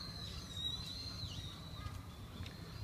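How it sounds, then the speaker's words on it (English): Crows calling in a Tokyo park, a faint, thin cry drawn out over a steady soft outdoor hush, with a few brief calls scattered across the moment. "You can hear the crows."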